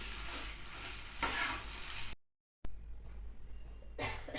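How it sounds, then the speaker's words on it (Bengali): Ridge gourd dish being stir-fried dry in a pan, a steady close scraping and sizzle that cuts out briefly mid-way before resuming. "ভালো করে কষিয়ে নিয়ে গ্যাস অফ করে নামিয়ে নিতে হবে"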